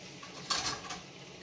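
Potato and peas curry stirred in a pot makes a brief clink and scrape of a metal spoon against the pot, a single quiet burst near the middle of an otherwise calm moment.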